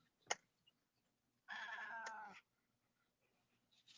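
A real cat meows once, a single drawn-out call heard faintly in a quiet indoor room during a live craft session, preceded by a soft knock and followed by near silence.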